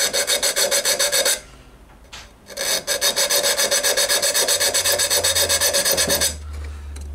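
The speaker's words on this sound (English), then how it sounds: "I've got a broad triangular file here." A broad triangular file rasps across metal armour in steady, rhythmic strokes, loud and close, with a short pause partway through before the filing resumes alone.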